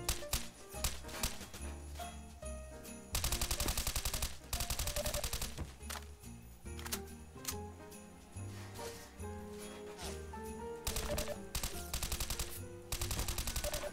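Rapid bursts of gunfire crackle and stop and start repeatedly in a video game weapon test, with dense automatic volleys broken by short pauses.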